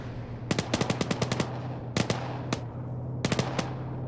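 Video-game gunfire during a squad military operation: three sharp bursts of rapid automatic shots, each a quick rattling string of cracks separated by short pauses, over a steady low hum.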